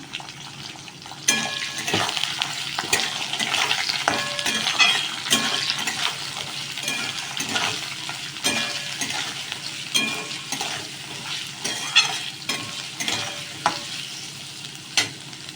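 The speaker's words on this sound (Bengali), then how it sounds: "সবজিগুলো আমার হালকা ভাজা হয়ে এসছে।" Mixed vegetables and carrots fry in a pan for a winter chirer pulao, a steady close sizzle broken by frequent sharp spatula scrapes and stirring clinks against the metal throughout, with no voices.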